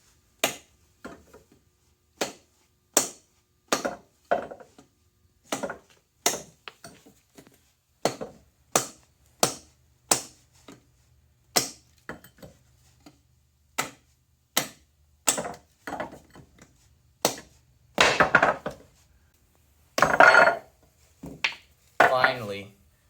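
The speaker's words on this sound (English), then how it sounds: "Will it knock off with this rubber mallet?" A rubber mallet knocks repeatedly at a loose axe head to drive it off its handle, a long run of sharp, close, evenly spaced thuds. Later blows come in louder, denser clusters.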